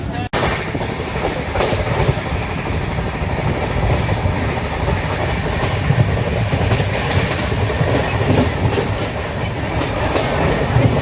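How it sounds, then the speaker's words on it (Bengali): Chambal Express passenger train running steadily just after pulling out of a station, with continuous loud rumbling and rhythmic wheel clatter on the rails throughout, heard from inside the carriage. "এখন ছেড়ে দিল আমাদের ট্রেন"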